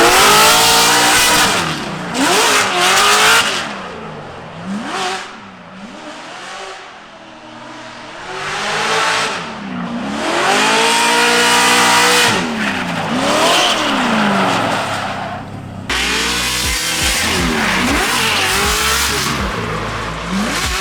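A C6 Corvette drift car lapping a track, its engine revving hard and rising and falling through repeated passes with tire squeal, loud and continuous for about twenty seconds.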